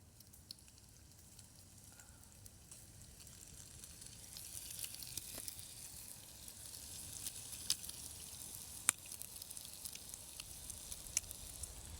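Steady, close sizzling of smoked bacon frying in a pan on a Trangia camping stove, with occasional sharp pops and crackles rising over the constant hiss.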